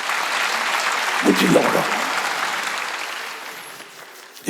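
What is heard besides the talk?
congregation applauding loudly in church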